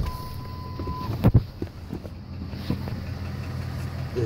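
A truck's 5.4 three-valve engine idles roughly, with a low, uneven rumble and a faint lifter or cam phaser tick. A door thud and a brief clunk are heard near the start, and no one talks.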